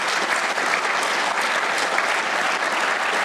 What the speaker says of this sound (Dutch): Ik vraag eigenlijk al een applaus